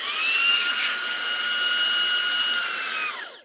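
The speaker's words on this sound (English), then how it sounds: "We got this motored power attachment as well that turns this head when the vacuum's on." Cordless vacuum cleaner with a motorized power head, a loud high-pitched motor whine holding steady, then winding down as it switches off near the end.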